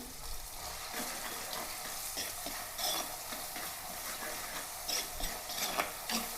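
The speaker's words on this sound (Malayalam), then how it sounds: "ഇതൊന്ന് വാടട്ടെ ഉള്ളിയും പച്ചളവും ഇഞ്ചിയൊക്കെ ഒന്ന് വാടിയിട്ടുണ്ട്" Onion, green chili and ginger sautéing in a pan for a fish curry, a steady close sizzle broken by scraping stirs and light clinks of the spoon, with no talk.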